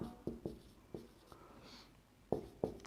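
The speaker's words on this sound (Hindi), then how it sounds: "एक दो और मिसालें लिखते हैं" Chalk or marker tapping and stroking on a board while writing out examples in a grammar lesson, a handful of short knocks and scratches at an irregular pace, close and fairly clear with no talk.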